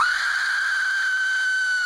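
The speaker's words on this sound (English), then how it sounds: "This is called an Aztec death whistle." An Aztec death whistle is blown in one sustained, piercing, scream-like shriek, loud and close, holding a steady harsh pitch for nearly two seconds without a break.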